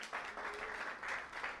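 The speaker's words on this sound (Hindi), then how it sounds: "यीशु मसीह के लिए तालियां बजाएं।" A church congregation at a Sunday service applauding, a steady wash of many hands clapping at moderate distance for a couple of seconds.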